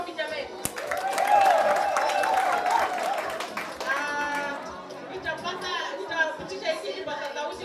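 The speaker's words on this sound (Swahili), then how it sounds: "Kwa hivyo tuwapigie makofi jamani." Audience applause at a prison staff excellence awards ceremony, a dense burst of clapping rising and holding for several seconds before thinning out, with voices chattering and a person talking over it.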